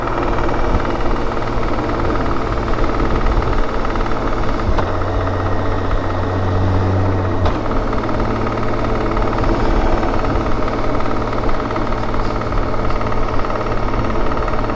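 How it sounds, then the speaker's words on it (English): BMW K1600B six-cylinder motorcycle running in a high gear, a steady loud engine drone with a persistent mechanical rattle and vibration throughout, no voices. "it really likes a rattle in that upper gear"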